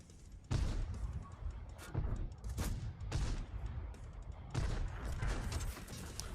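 Bursts of rapid video game gunfire crackle in quick volleys with short pauses between them, loud and close, with booming low-end thumps, during a boss fight in Myrnyi 13 on nightmare difficulty.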